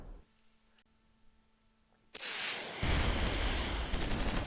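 Tank gunfire in the Close Combat V WWII strategy game, a quiet low hum giving way to a sudden loud burst of firing and rumbling that continues to the end.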